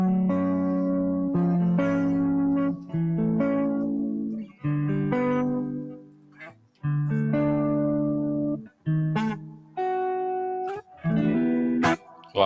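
Electric guitar played through a boutique overdrive pedal, with loud, sustained driven chords and riffs in several phrases separated by short pauses. The tone is gritty and distorted, the guitar is close, and there is no voice.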